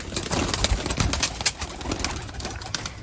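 Pigeons cooing, soft repeated throaty coos and bird calls close by, steady and continuous over faint background noise.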